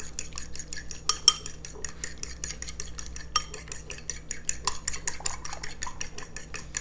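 A utensil whisks egg for an egg wash in a bowl with rapid, rhythmic clinking and scraping. The sound is close and fairly quiet, with a couple of sharper taps near the start.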